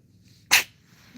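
A cat with a cold gives one sharp, sudden sneeze, close and brief, in an otherwise quiet room, followed by faint low sounds.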